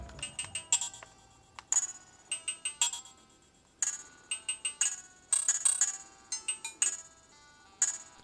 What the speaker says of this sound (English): I also found ad-lib music plays back poorly on 0x86